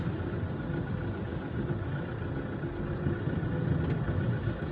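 Idling car engines rumble in road traffic in downtown Sual, Pangasinan, a steady low drone of several nearby vehicles with no talking.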